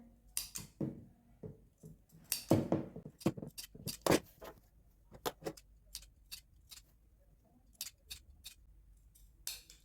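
Scissors snip into fabric beside a stitched seam on a back neck piece for a garment, giving sharp irregular close cuts in quick clusters and then sparser single snips against a quiet background.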